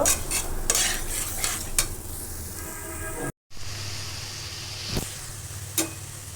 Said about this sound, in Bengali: গাজরটা আমি দুই তিন মিনিট ভেজে নিচ্ছি